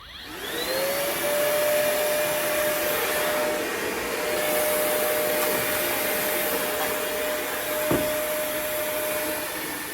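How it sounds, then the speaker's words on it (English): A small battery-powered Worx vacuum cleaner runs steadily in a garage, its motor spinning up to a loud, constant whine with an airy rush that holds for nearly ten seconds, close and with no talk. "I got this little Worx Vacuum Cleaner."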